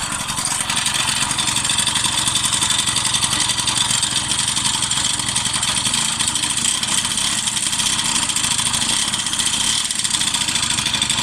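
A small two-stroke moped engine, with a new original exhaust fitted, idles steadily up close, a continuous buzzy rattle with a bright raspy exhaust tone, no voices.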